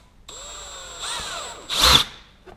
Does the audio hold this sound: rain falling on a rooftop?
no